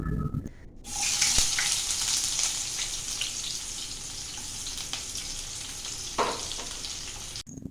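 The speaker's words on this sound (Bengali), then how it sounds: "পেঁয়াজটাকে ভালোভাবে ভেজে নিতে হবে।" Two large chopped onions fry in hot mustard oil, a loud, steady sizzle that starts abruptly after a brief quiet moment and continues evenly until near the end, with no talking.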